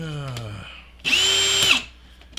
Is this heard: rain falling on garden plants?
no